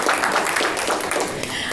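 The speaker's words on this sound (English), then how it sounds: "we should clap for that" A short burst of applause at a city committee meeting: a dense, steady patter of clapping from a roomful of people, moderately loud and continuous throughout.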